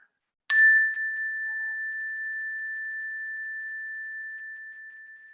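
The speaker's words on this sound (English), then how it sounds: "In the moment, you'll hear the sound of the bell." A meditation bell struck once, a bright clear ring followed by a long pure sustained tone that slowly fades over several seconds, heard alone in near silence.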